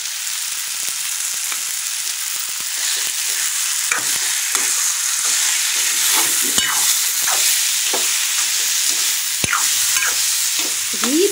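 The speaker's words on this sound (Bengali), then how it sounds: "এখন এর মধ্যে দেবো একটু ঘি, দিয়ে দিই।" Ghee sizzles in a pan of cabbage ghonto curry as a spatula stirs it, a steady hiss of frying with scattered scraping and clinking strokes close by and no voices.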